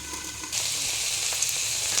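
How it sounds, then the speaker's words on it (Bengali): Vegetables for dalia khichdi, tossed into a pan tempered with five-spice, dried chillies and bay leaves, sizzle loudly after a short quieter start, with faint stirring scrapes under the steady frying hiss. "তার মধ্যে দিয়ে দিলাম আমি সবজিগুলো একটু নাড়াচাড়া করে"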